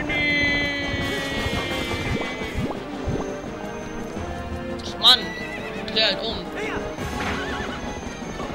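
A horse in Zelda: Twilight Princess whinnies and clip-clops in the game, hooves pounding with sharp neighs and splashy effects over background music, while someone talks over it.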